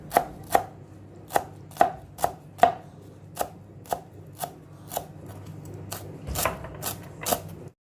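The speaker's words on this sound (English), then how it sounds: "I'm going to cut it into fine chop so we can mix this fresh parsley into the mashed potatoes" A knife chops fresh parsley on a cutting board in crisp, evenly spaced strikes, then a quicker flurry of chopping near the end, close and clear.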